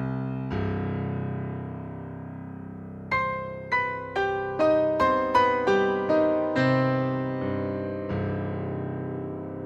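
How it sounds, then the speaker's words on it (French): Roland V-Stage 88 stage piano on its German Grand setting, dry with no added reverb, plays a held low chord, then a run of separately struck rising notes and chords that ring out clearly and alone. "Grand piano, je voudrais aller dans le German Grand."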